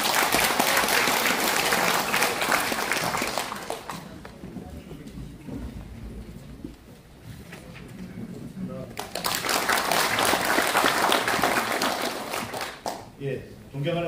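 Audience at a Korean policy seminar on completing Sejong as the administrative capital bursts into loud applause, which fades into a quieter stretch with a voice and then swells again with strong clapping.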